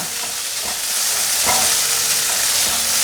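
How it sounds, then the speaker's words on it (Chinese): Shiitake mushrooms and dried tofu stir-fried together, a bright continuous sizzle close up with a few scraping stirs cutting through, alone without speech. "炒到香菇有微焦了，现在放入豆干， 快速翻炒。"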